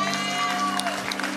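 A church congregation claps together in praise, a brief dense burst of applause mixed with a steady sustained tone and some voices.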